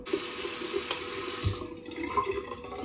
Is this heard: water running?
yes